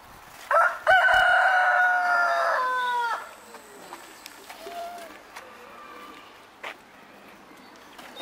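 A rooster at a zoo crows once, loud and close, followed by quieter scattered farmyard noises and faint background sounds.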